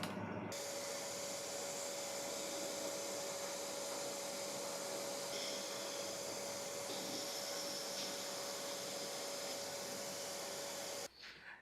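Workshop dust collector steadily sucking away wood shavings through a larger-diameter duct: a loud, continuous roaring whoosh with a steady tonal whine, running unbroken until it cuts off abruptly near the end.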